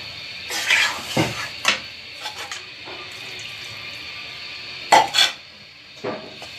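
Dhoka pieces being stirred in a metal pan, heard as scattered clanks and scrapes of a utensil in bursts, with quieter gaps and a faint running-water hiss in the background.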